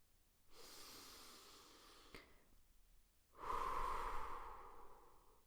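Two slow, deep breaths taken close and alone in a quiet room: a long airy inhale, a pause, then a louder, fuller exhale that trails off.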